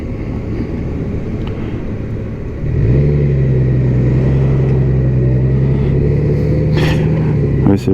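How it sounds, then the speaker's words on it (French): A heavy concrete mixer truck rumbles close by, its low engine drone rising around three seconds in and holding steady as it passes, with a brief clatter near the end. "les toupies de béton, c'est classe"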